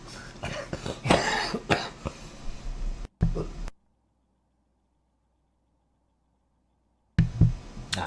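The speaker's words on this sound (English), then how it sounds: "Sorry, had to cough there." A few harsh coughs up close, then a stretch of near silence before another cough breaks through.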